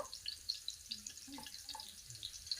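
Cinnamon frying in oil in a pan while a paneer and mixed vegetable dish is cooked gives a faint, quiet sizzle of light crackles and pops, spread evenly through the clip.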